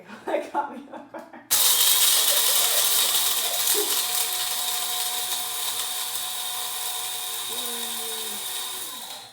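A grinder whirs continuously at a high, steady pitch while grinding coffee fine for a homemade pumpkin spice latte, starting abruptly after a moment of quiet and running on alone.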